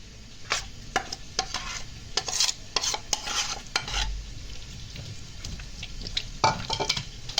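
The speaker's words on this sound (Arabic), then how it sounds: "بعد ما خلصت التتبيله هضيفها بقى على الاجنحه" Chicken wings being tossed and stirred in a wet marinade, a run of close, irregular squelching and clattering strokes against the bowl with no talking.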